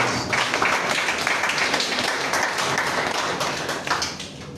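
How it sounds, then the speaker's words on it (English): Audience at a health event giving a round of applause for service providers, continuous dense clapping from a sizable crowd held at an even level throughout. "let's again give a bigger round of applause to all service providers in the house"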